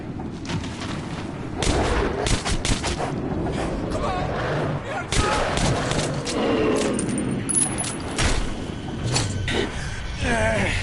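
Gunfire rattles in Metro 2033, with repeated loud shots and booming blasts mixed with clanks, while voices shout over the fighting.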